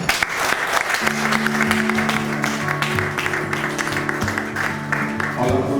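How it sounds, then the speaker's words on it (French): Applause from an audience at a handover ceremony, sustained clapping throughout with steady horn-like music tones layered over it. "On applaudit"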